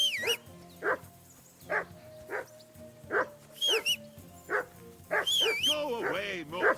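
A dog in the video game Kingdom Come: Deliverance II gives a series of short, evenly spaced barks close by, with a few higher yelps and whines toward the end.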